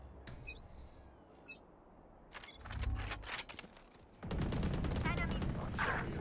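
The Odin machine gun in the game Valorant fires in loud, rapid sustained bursts, with a short volley followed by a longer stream of shots and brief quieter gaps of game effects between them.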